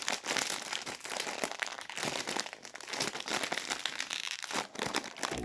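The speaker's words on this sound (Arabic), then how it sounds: "الكيس الخامس ده نفتحه ونقول بسم الله" A plastic bag of sweet pepper flavored snacks is opened with dense, continuous crinkling and rustling close by, loud and busy throughout with no speech.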